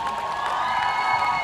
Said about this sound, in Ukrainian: Під ваші найбурхливіші оплески.